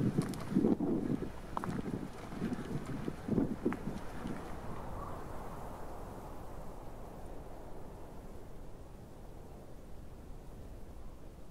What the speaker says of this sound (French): difficile de tenir l'appareil photo avec ce vent